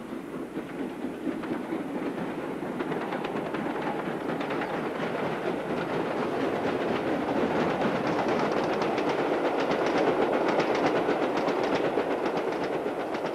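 LNER V2 class steam locomotive Green Arrow on the move, a continuous rolling rumble with faint rhythmic wheel clatter that swells slightly toward the end, heard alone without voices.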